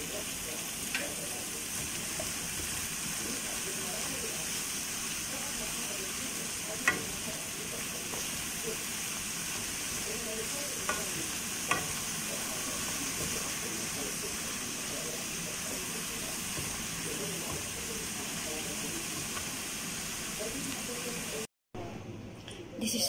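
Spinach sautés for pastry filling in a pan, giving off a soft, steady sizzle and hiss with a few faint stirring taps, heard close and low for the whole stretch, with quiet talk underneath.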